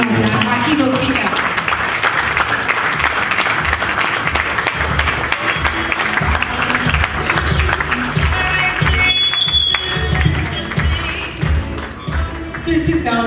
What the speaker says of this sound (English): Please, with a wonderful round of applause,